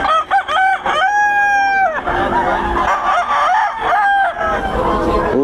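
Several chickens cluck steadily from Pampanga fowl stock while a rooster crows loudly and clearly twice, the birds close by with a busy, overlapping barnyard chorus.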